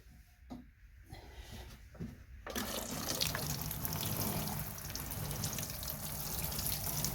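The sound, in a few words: watering can pouring water onto compost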